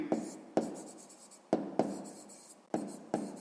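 Pen strokes scratch across paper while working a sixth-grade math exercise on percentages, close up and alone, with short repeated scribbles separated by sharp taps as each mark starts.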